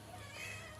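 A small kitten gives one short, faint meow against a quiet background.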